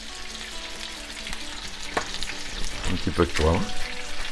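A rump steak sears in a hot frying pan with butter, giving a steady close sizzle and crackle, some spatter and stirring noises near the end, while someone speaks briefly over it.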